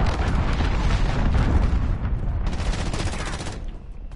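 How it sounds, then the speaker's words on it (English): Cruise missile strike in the video game Modern Warfare, heard as a loud sustained roar of explosions and heavy gunfire that cuts out briefly, bursts again, then fades near the end. "Enemy cruise missile incoming"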